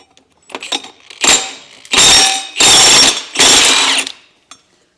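A rattle gun hammers off the clutch nut on a 2022+ Beta 4-stroke motorcycle in three loud, close bursts of rapid impacts, each about a second long, with short pauses between.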